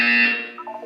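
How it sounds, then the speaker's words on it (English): A short electronic buzzer tone from the video game Portal 2, a bright steady tone that fades and then flickers into a few brief stepped pulses, about a second long and heard alone. "You will hear a buzzer."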